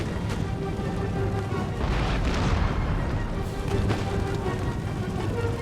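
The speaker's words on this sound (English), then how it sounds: "Not sure what the cannons are trying to achieve there." Cannons fire in the Empire: Total War video game, heavy booms and crashes thudding repeatedly over a dense, loud battle din throughout.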